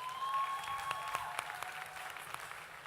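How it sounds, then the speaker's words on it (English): At a food and drink masterclass, an audience gives a round of applause. The clapping is fairly faint and distant, and it runs steadily through the short stretch. "Can we give a round of applause, please?"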